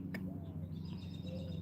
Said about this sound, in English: these are two different types of blackbirds right here